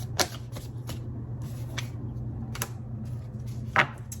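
Tarot cards are shuffled close by in quick riffling bursts and soft flicks, with a few sharper slaps of cards against each other at a fairly quiet level.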